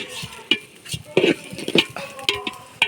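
Rice grains being stir-fried in a pan for pulao, giving repeated scraping and stirring clatters of a spoon against the pan with a light sizzle underneath, close by and uneven in rhythm.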